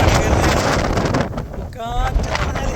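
Strong wind blows hard across a microphone on the climb to Kurinjal peak in the Karnataka forests, a loud buffeting roar that rises and dips, with a voice speaking over it.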